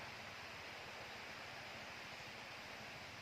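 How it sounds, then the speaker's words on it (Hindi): Steady broadband rush of a waterfall flowing below a high hilltop in dense, remote jungle at night, a continuous wash of water noise with no other sounds standing out. "घनघोर जंगल है, नीचे झरना बह रही है"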